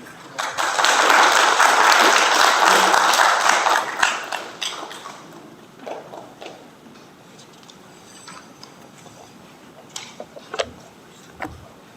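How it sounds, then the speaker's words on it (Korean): Loud, dense applause from a press-conference audience marking a Hanam mayor's first year in office, swelling for about four seconds before fading into scattered claps and a few sharp clicks. "큰 박수 부탁드립니다"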